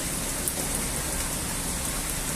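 Steady rain pours down in a dense, even hiss with no pauses, close and fairly loud.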